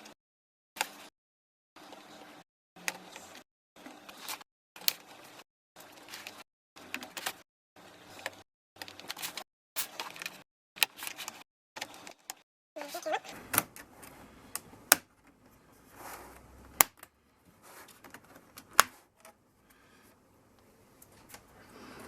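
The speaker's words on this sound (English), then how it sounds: "You can hear it kind of popping. So I run my tool, my plastic tool along the edges." A plastic pry tool working around the edges of an Asus Q200E laptop case, with a run of sharp, close clicks and pops, evenly spaced at first, then more irregular and scattered with scraping handling noise.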